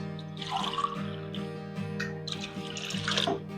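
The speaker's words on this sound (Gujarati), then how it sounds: "દાળને સરખી ધોયા પછી આપણે 2 ગ્લાસ જેટલું પાણી એડ કરીએ છીએ" Water pours from a tap into a vessel of washed lentils being soaked for Surti sev khamani, a soft, steady trickle and splash with bursts of stronger flow, fairly quiet and close.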